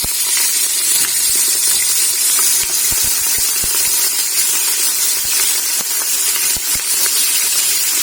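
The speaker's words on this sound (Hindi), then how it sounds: "अब घी अच्छे से गर्म हो गया, अब गोश्त ऐड कर देंगे।" Mutton pieces dropped into hot desi ghee in a karahi for shanwari karahi, giving a loud, steady sizzle and hiss with scattered pops and crackles throughout, no talking.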